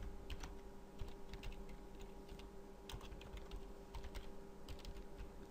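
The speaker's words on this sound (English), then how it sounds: "I'm going to type in let's do pickup" Fingers type on a computer keyboard in quick, uneven bursts of soft clicks and taps over a faint steady background hum, with no one speaking.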